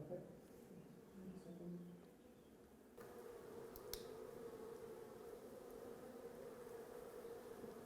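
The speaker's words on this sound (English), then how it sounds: "That's the sound of thousands of bees." Soft, steady buzzing of thousands of honey bees around full hive boxes, a low drone that thickens partway through, faint and continuous with no voices.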